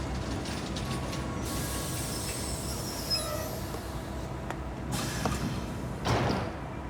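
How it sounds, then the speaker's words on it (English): In an animated series, a train rolls into track 13 at a station with a low steady rumble, faint metallic wheel squeals and rattling carriages, ending with a brief clunk nearby. "Train approaching track 13."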